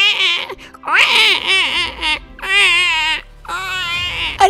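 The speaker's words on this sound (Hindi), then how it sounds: "कहीं तो कोई बच्चा रो रहा है" An infant cries in loud, wailing bursts with short pauses between them. The cries are close and clear over a quiet background.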